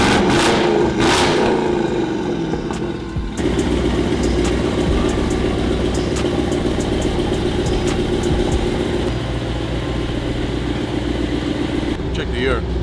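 Engine of a Ferrari Purosangue fitted with a Venuum body kit starting up and revving, a loud close rumble with rises in pitch, then settling into a steady idle, with people talking nearby.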